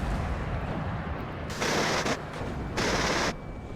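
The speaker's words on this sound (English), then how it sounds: "Taking shots at the aircraft that just passed by" In the real-time war game WARNO, ground units fire at an aircraft passing overhead: two loud, dense bursts of rapid gunfire, each about half a second long, separated by a short pause over constant battlefield rumble.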